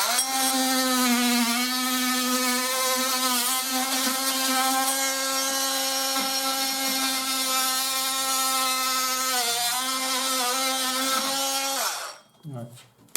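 A serrated-blade power tool cuts out plasterboard to fit an electrical back box, producing a loud, steady buzzing whine for about twelve seconds that stops abruptly near the end.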